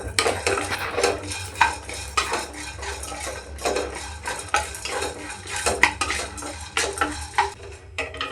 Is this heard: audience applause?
no